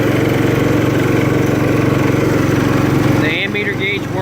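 A 1968 John Deere 110 lawn tractor engine runs close by with a loud, steady, pulsing drone. Near the end a voice speaks briefly over the running engine.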